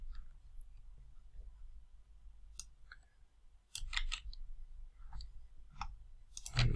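Several sharp computer mouse clicks, spaced irregularly and fairly close, with a soft background hum between them.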